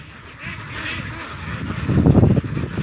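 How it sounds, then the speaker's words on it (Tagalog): Pet ducks in a new pen quack in a loose cluster, the calls starting faint and then swelling into a louder, close burst of overlapping quacks near the end, over a light background hiss. "tignan nyo na mga alagang itik natin"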